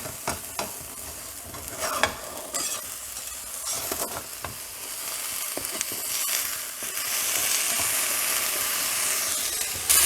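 Tomato browning in a hot pan for a vegan, gluten-free wowpat, with a steady sizzle and frying hiss that grows slightly louder toward the end, no talking.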